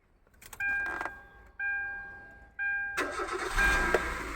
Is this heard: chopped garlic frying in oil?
no